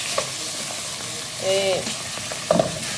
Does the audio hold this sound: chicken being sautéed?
yes